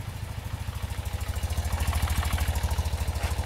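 BMW airhead motorcycle engine idling close by in a workshop, a steady lumpy low pulse of even firing beats, growing slightly louder, with no talk.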